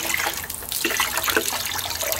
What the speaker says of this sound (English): I'm going to squeeze out all the water, and then I'm going to hang it to dry.